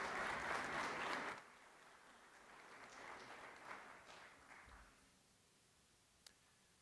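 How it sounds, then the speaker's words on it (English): An audience at a business competition event applauds a gift presentation; a short burst of clapping stops abruptly after about a second, followed by faint scattered claps and a quiet room. "A round of applause for this great"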